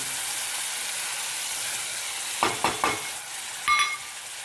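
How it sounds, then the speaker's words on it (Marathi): Ginger, garlic and coconut paste sautéing with spices and a slit green chilli in a pan for black chickpea curry, a steady sizzle punctuated by a few close stirring scrapes. "याला आपण आता छानपैकी परतून घेऊया।"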